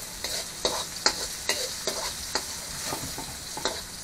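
Tomato and onion sizzle in a hot pan while a utensil stirs them, with rhythmic scraping strokes about every half second over a steady, soft frying hiss.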